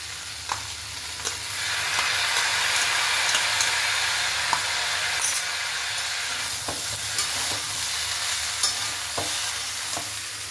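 Ginger fries in a pan with fennel and radhuni paste for shukto, a loud steady sizzle and hiss close up, punctuated by sharp clicks of stirring and spatter throughout.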